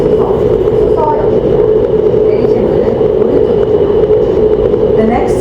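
Inside a GTX-A high-speed train nearing Suseo Station, a steady, loud rolling rumble and hum fill the cabin without letup.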